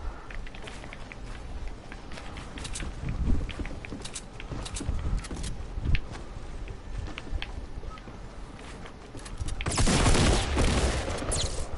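Rapid gunfire crackles from several directions in the Fortnite video game, dense and continuous with a louder burst near the end, with a brief voice heard faintly.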